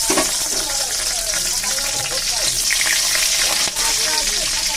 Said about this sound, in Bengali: কাঁচা লঙ্কা কালো জিরে ফোড়নে দিলাম।